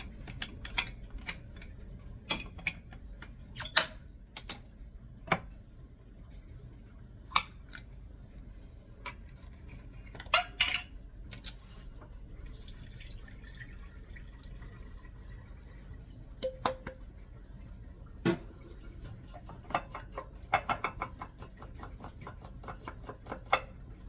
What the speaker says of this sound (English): Next, I'm gonna drain my canned corn.